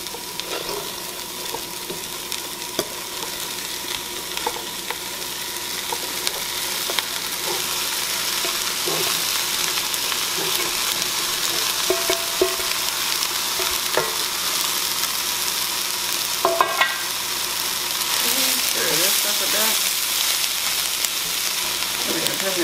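Venison sizzles steadily in a pan with onions and green pepper, loud and close, with occasional stirring scrapes and clinks over a constant frying hiss.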